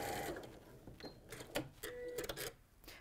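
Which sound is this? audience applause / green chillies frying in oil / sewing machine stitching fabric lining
sewing machine stitching fabric lining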